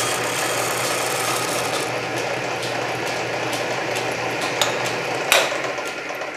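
A Canedy Otto drill press runs at 300 RPM, giving a steady mechanical hum and rattle that stays constant throughout, with a couple of brief metallic clicks near the end and no talk.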